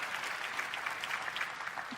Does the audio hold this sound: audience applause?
yes